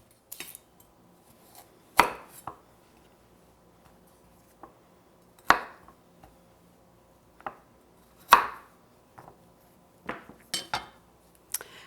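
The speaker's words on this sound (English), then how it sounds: "we're just going to give it 1 or 2 quick chops" A knife chopping a carrot on a cutting board, a few sharp, distinct cuts spaced irregularly with quiet pauses between them, close and crisp, with no talking.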